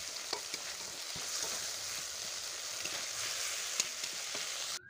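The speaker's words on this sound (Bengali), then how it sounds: "জল দিয়ে একটু নেড়ে চেড়ে নিলাম।" Spiced hilsa fish curry stirred in a pan just after water goes in, a soft continuous bubbling hiss with faint occasional utensil taps, fairly quiet and without voices.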